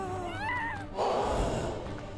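A drawn-out cat meow that bends in pitch, then a burst of noisier sound, from the LEGO Harry Potter video game, heard against a constant game backdrop.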